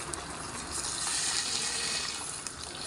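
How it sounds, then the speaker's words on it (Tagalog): Hot water pours steadily into a pot of coconut milk vegetable stew with shrimp, a continuous close gushing splash lasting throughout at a fairly even level with no talk. "Dinagdagan ko nga pala yun dyan ng mainit na tubig guys."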